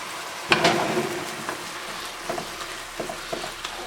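Ground beef frying in a pan for a hamburger potato casserole, a steady soft sizzle with occasional scraping stirs and clicks of a utensil, close and without talk.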